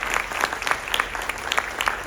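An audience at a lecture-demonstration event applauds two young demonstrators with steady, full clapping, individual sharp claps standing out through the wash and a faint murmur underneath.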